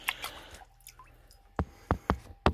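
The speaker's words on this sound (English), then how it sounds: "And with putting the water into the filter" Water poured into the filter of an axolotl tank, a soft rushing trickle at first, then a few distinct drips and splashes close by.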